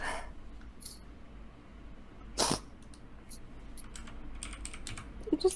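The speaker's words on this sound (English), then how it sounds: "The typing is really distracting." Typing on a computer keyboard comes through as scattered, uneven clicks and short bursts of keystrokes over a low background hum, fairly faint, with no voices.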